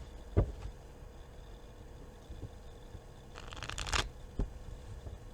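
A deck of cards is shuffled in a short riffle burst near the end, fairly close and soft, after a few faint taps and handling sounds in a quiet room.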